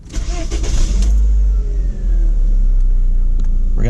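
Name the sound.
Mk4 Jetta Tiptronic car engine running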